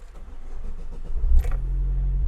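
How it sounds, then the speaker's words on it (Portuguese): A car with a programmable fuel injection system cranks briefly before its engine catches with a sharp burst, then settles into a steady, close low idle rumble; there is no talking. "Vou ligar o motor em marcha lenta aqui."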